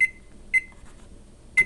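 A microwave gives three short, clear beeps as its timer is keyed in, the first two close together and a third after a pause, with a faint hum between.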